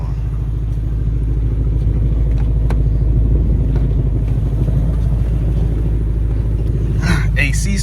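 A 2024 Ford Mustang GT fitted with a Whipple supercharger idles after an auto-start, a loud, steady low rumble with a rhythmic pulse, and a person talks over it.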